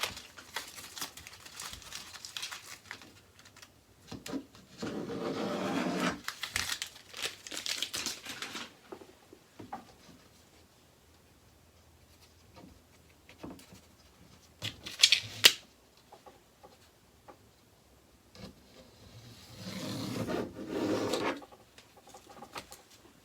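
Excess film being trimmed and peeled off a laser-cut acrylic piece, with intermittent crinkling and rustling bursts and sharp snips separated by quiet pauses, close-up.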